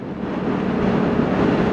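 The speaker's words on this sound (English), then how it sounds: "A little bit windy out here in the sticks," Steady wind gusts buffet the microphone outdoors in the countryside near Oxford, a continuous low rushing roar with no talk, loud and close throughout.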